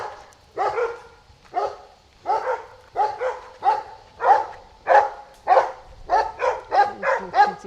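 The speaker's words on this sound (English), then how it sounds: "So they are barking at my dog" Dogs barking outdoors along a road during a walk, a long series of repeated loud barks at a fairly close distance, with short gaps that shrink as the barking quickens toward the end.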